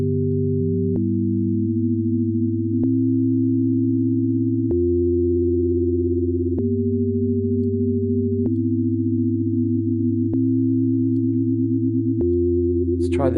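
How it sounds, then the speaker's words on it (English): Fast sine wave synth tone from Ableton Live 12.1, a clean continuous electronic hum whose pitch steps to a new note every couple of seconds, sustained and steady with nothing else around it. "So really fast kind of sine wave here."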